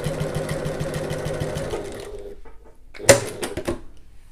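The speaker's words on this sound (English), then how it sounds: "turn it over and top stitch along each long edge using a 1/8 of an inch seam allowance" A sewing machine top stitches along the long edge of fabric at a 1/8 inch seam allowance, its needle running in a fast steady mechanical whir that slows and stops, followed by a few clicks close by.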